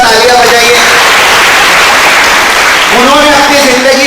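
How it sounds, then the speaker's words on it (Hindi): A workshop audience breaks into loud, continuous clapping, a dense wash of applause with a voice speaking over it near the start and again toward the end. "इनके लिए जोरदार तालियां बजाइए।"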